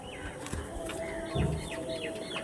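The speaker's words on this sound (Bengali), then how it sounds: "প্রচুর ছটপটে পায়রা বন্ধুরা" Pigeons, a flock of restless birds, cooing and chirping close by, with a brief flutter of wings midway through.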